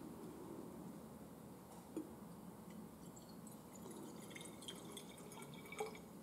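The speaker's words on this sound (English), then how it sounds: "So let's pour in some water into our flask." Water poured into a stoppered Erlenmeyer flask in a lab, heard as a quiet, steady trickle with a few faint drips and small clinks near the end, with no talk.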